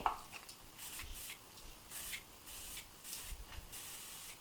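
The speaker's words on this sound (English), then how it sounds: "I'm going to just spritz it with a little bit of the Toni and Guy Casual Flexible Hold Hairspray" Toni and Guy Casual Flexible Hold hairspray is spritzed onto loose, bouncy curls in about seven short, quiet bursts, each a soft airy hiss separated by brief pauses.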